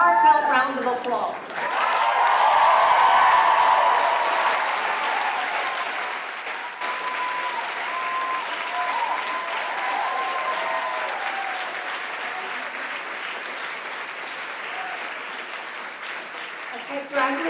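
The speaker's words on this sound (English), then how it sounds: "Thank them with a hearty and heartfelt round of applause." Commencement crowd applauding families and supporters, sustained loud clapping and cheering from a large audience that holds steady for over fifteen seconds, with brief talk at the start and end.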